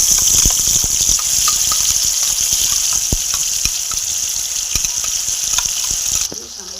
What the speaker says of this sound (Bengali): সামান্য জল দেবো